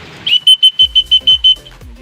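A small pigeon whistle shrills in eight quick, loud, evenly spaced bursts, each a bright high tone, followed by some faint background thumps.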